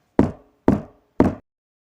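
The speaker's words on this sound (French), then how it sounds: "quelqu'un frappe violemment à la porte de la ferme" Three loud, heavy knocks on a farmhouse door, evenly spaced about half a second apart, each a dull thud with a short ring, with silence after.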